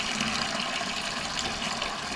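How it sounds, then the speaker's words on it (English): Water running steadily from a brushed gold waterfall bathroom faucet, a continuous broad hiss at an even level with no talking. "And now I'm going to get the cold, let the water, the air come out."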